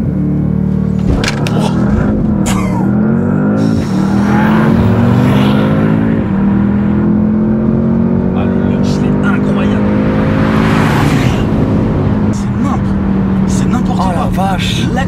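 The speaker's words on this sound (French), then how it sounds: "L'accélération en launch control." A 2025 Porsche Panamera Turbo S E-Hybrid launches hard under launch control, its engine roaring loud and close as the tone climbs through several rising gear pulls with brief shift dips; passengers talk and exclaim over the noise.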